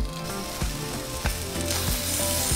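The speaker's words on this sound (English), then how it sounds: "in our comal, we're going to roast our tomatillos, our jalapeños, Anaheim peppers," Tomatillos, jalapeños, Anaheim peppers, onion and garlic cloves roast on a hot comal, crackling in a dense continuous sizzle punctuated by soft rhythmic pops and taps.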